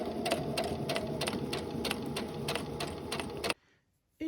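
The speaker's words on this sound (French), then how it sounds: "Maintenant, je vais venir coudre tout autour." A sewing machine stitches around the neckline of a simple rectangle top, a fast, even run of needle clatter held close for several seconds before stopping abruptly, followed by near silence and a brief restart of noise.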